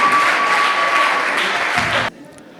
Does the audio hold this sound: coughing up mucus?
no